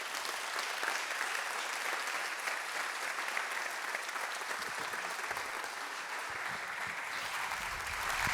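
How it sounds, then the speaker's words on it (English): A conference audience at a panel discussion gives sustained, even applause that carries on steadily throughout, with no talking over it. "just another round of applause for an incredible young person"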